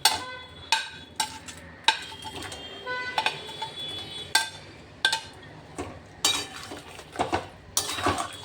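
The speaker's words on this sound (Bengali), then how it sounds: "এবার আমি চিংড়িটাকে এখানে অ্যাড করে দেবো" Shrimp go into a pan of cooking masala for Bengali chingri malaikari. Irregular metallic clinks and clanks of a utensil against the pan ring out close by, separated by short quiet gaps.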